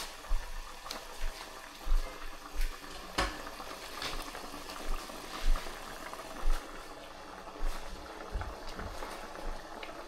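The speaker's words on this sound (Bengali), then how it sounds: "দেখতে পেয়েছেন কত সুন্দর টকবক টকবক টকবক করছে" Duck curry boiling in a pot, cooked in a Bangladeshi home style, gives a low, steady bubbling with soft irregular pops and plops, close and fairly quiet, with no talk over it.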